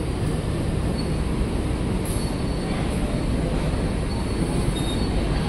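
A Bangunkarta passenger train leaves Jakarta with a dense, continuous rumble of rolling wheels and rail noise close by, steady and loud throughout with faint high squeals above it.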